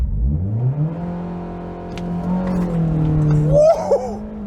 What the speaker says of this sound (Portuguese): Pisar no freio bem forte e acelerar ele.